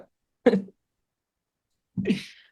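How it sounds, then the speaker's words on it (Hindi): Two short, sharp coughs about a second and a half apart, close by, with silence around them. "खांसी आ गई।"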